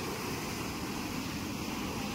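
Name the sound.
high-tide sea waves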